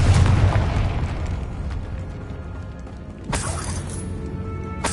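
A fiery Confringo spell blast from Hogwarts Legacy: a loud rumbling boom opens, settles into a low rolling roar, then a sharp cracking burst hits near the three-second mark and rumbles on.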